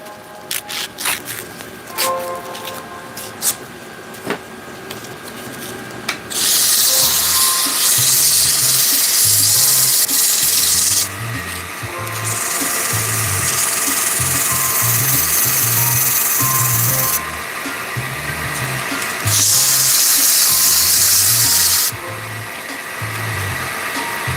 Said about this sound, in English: I like the wet sand to get a lot less dust.